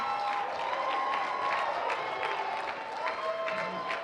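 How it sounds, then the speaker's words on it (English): An audience applauds singing-competition contestants back on stage with dense, sustained clapping and some crowd noise, with a faint tonal hum running underneath, steady and fairly loud throughout. "Please give them one big final round of applause."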